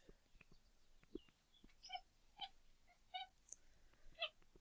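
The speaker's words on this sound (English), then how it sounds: "that's my cat chattering at birds" A house cat chatters at birds, several short clicky bursts spaced irregularly across a few seconds, faint and close in an otherwise quiet room, with no speech.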